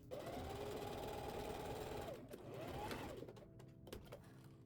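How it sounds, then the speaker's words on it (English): A sewing machine top stitching around the hem of toddler shorts runs in a steady close whir for a few seconds, with a brief slowdown midway before continuing, no voice over it. "I'm going to do a top stitch around that hem"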